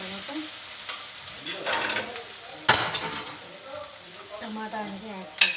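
Ginger garlic paste fries in a pan for a prawn curry, with a steady sizzle broken by scrapes and clinks of a spoon stirring against the metal.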